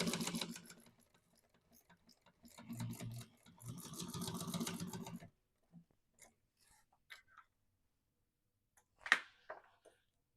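A sewing machine stitching an Aviatrix quilt pattern runs in two close, steady whirring bursts, then falls quiet apart from a few soft clicks and a brief handling noise.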